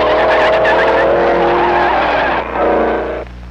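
1930s race cars corner hard on a banked carousel, tires squealing in a loud, sustained wavering screech over engine roar that cuts off and returns briefly as the cars slide through.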